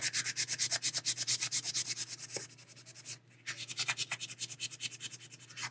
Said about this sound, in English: I'm just getting everything a real light sanding